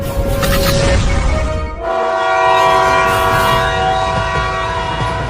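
A cartoon train rumbles along loudly with a sustained, blaring horn, its steady mechanical roar filling the scene throughout.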